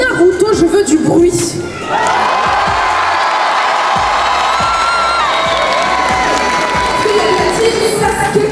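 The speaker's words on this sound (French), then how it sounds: "Pour les gens qui sont team Naruto, je veux du bruit" A large concert crowd at the Naruto Symphonic Experience cheers, whoops and screams loudly and continuously, a dense wall of voices with scattered shouts.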